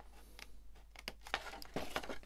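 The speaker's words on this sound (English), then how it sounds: "we're going to snip that middle bit out" Scissors snip through a piece of card to cut out a middle section for a folio box: a close run of short, crisp cuts and paper rustles, quiet and heard alone.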